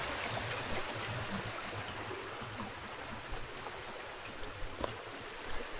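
Gentle river water trickles steadily on a forest hike on Vitosha mountain, a soft continuous babble of a calm stretch of stream with no waterfall, faint and even throughout.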